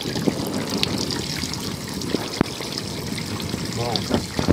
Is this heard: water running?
yes